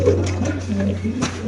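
Low, throaty cooing from white Giribaj and Golla pigeons close by, soft repeated coos in a steady flow, with a voice talking over them.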